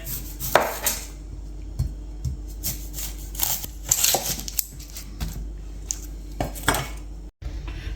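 Onions sliced with a knife on a board in a home kitchen, a run of sharp irregular cuts and clicks with occasional clatter of utensils, close and fairly quiet with no talking.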